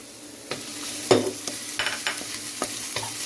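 Garlic and onion sauté in a pan for a simple seafood dish, a steady close sizzle broken by repeated scraping stirs and clacks of a utensil against the pan.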